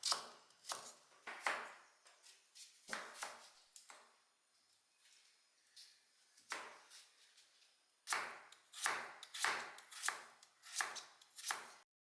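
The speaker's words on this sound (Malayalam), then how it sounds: "ഇനി അതൊന്ന് നുറുക്കുക മത്തൻ" Pumpkin being chopped with a knife on a board for Kerala erissery, crisp close strikes coming in quick rhythmic bursts with a quiet pause in the middle.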